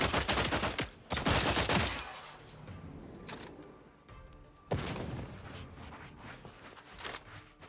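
Bursts of automatic gunfire in the sci-fi shooter The Outer Worlds 2, loud rattling volleys at the start and again midway, interspersed with mechanical clanks and creaks as firing fades and resumes.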